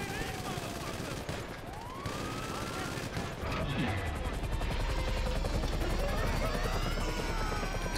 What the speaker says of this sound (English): That would be a helicopter crashing.